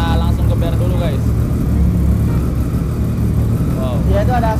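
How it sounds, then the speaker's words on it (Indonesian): An Aprilia RSV4 RR sport motorcycle idles after a cold start, unwarmed for days. A deep, steady, close engine rumble runs throughout while people talk briefly at the start and end. "Ini cold start nih, belum diangetin sama sekali motornya."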